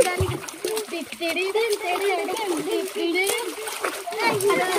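Water splashing and sloshing about while children talk and shout close by.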